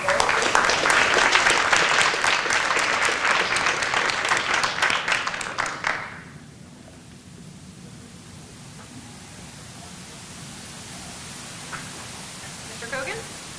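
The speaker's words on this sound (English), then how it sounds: "Another round of applause." A loud round of applause at a school board of education meeting for a student of the month, dense clapping for about six seconds before it stops abruptly, leaving quiet room noise.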